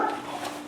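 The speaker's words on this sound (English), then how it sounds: "And the barking dog" A dog barks in the background of a home welding workshop, a short muffled bark with no talk over it.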